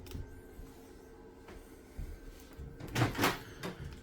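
Soft rustling and light handling, then a quick sliding scrape and a couple of muffled plastic clunks as a vent cover in a 2023 Salem Grand Villa 42VIEW destination trailer is pulled shut.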